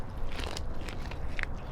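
Corn on the cob bitten and chewed fast during an eating contest: a few crisp crunches and crackles close to the mouth over a busy, noisy background.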